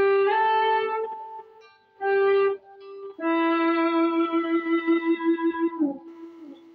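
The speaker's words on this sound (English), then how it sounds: "since it is called volume swell, just be swelling your volume and be decreasing the volume" Electric guitar notes fade in and swell smoothly without a picked attack, giving a bowed, violin-like tone; several sustained phrases end in a wavering, pulsing note.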